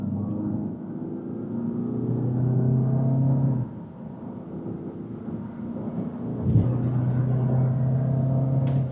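A 2025 Citroën Berlingo XTR engine roars and strains during a hard 0–100 km/h run from standstill on poor asphalt with some wheelspin, a deep sustained rumble that dips briefly before surging again, loud and close with no talk.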